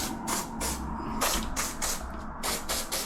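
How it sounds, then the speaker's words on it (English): Short repeated bursts of WD-40 maintenance spray hiss close up onto sliding wheels and a runner, several quick squirts in an uneven rhythm with brief pauses between them. "I'm just gonna put some maintenance spray, which is basically WD-40, on these wheels"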